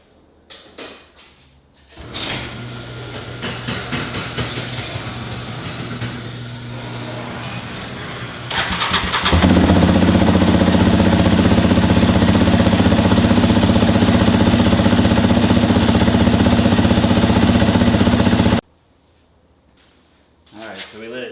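A Yamaha Raptor 700 ATV's single-cylinder engine cranks with a few rapid starter bursts, catches, then settles into a loud, steady, throbbing idle for about nine seconds before cutting off abruptly.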